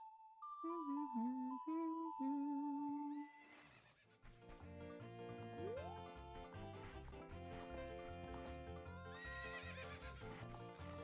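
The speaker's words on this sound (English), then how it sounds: "I need to ride the horse and talk to him while I'm on Epona" Epona, the horse in Ocarina of Time, whinnies loudly at the start, then her galloping hooves beat in a steady rhythm under game music.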